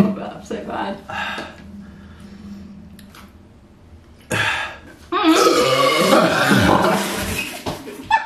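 Burps during a Sprite-drinking challenge, a few throaty eructations breaking up loud, close talking and laughter, with a rough burst of noisy sound toward the end.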